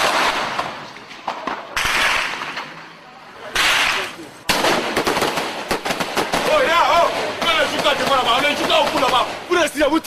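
Rapid bursts of gunfire crack out in chaotic volleys during a violent hostage situation, loud and close, with sharp repeated shots and shouting voices mixed throughout.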